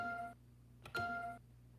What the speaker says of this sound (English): This is a very transparent sound. It's very clear what it is. It's a bell.